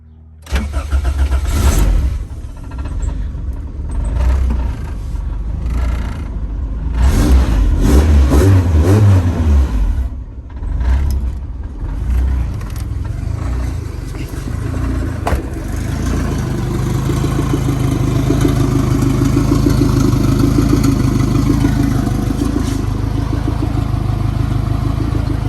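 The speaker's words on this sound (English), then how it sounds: "Alright guys, first startup, here we go." A turbocharged car engine cranks and fires up for its first startup, revs a few times, then settles into a steady, loud idle close by.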